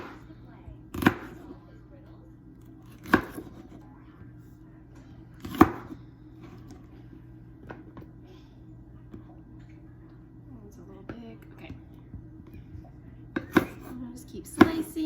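A knife chops vegetables on a cutting board for a Greek pasta salad, giving a handful of sharp, isolated thuds spaced a few seconds apart over a quiet kitchen hum.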